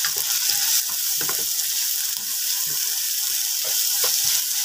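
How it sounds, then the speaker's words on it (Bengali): Onion, tomato, ginger paste and garlic paste sizzle steadily in a hot pan with oil, broken by repeated scraping stir strokes from a spoon, close and continuous. "দিয়ে দেবো পেঁয়াজ টমেটো কুচি, আদা বাটা, রসুন বাটা, দিয়ে এগুলো আবারও ভালো করে কষিয়ে নেব।"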